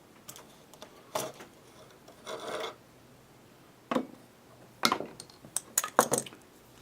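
A series of short, sharp cutting strokes as lead tubing is cut flush, a rasping burst then several quick snips and clicks, close by and fairly loud against a quiet background.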